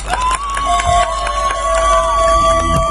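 A concert crowd in Akşehir cheers and applauds at a tribute concert, a broad wash of clapping and cheering with sustained tones ringing above it.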